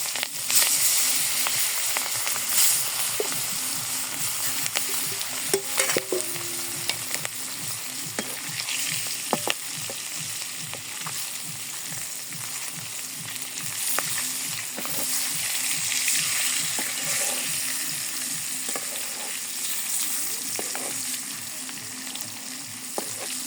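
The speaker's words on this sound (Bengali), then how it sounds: "কড়াই তাপ হয়ে গেছে, এখন আমি তেল মাছ দিয়ে দিলাম।" Fish frying in hot oil in a kadai in a village kitchen, a steady dense sizzle with crackling pops and intermittent stirring scrapes, close and continuous throughout.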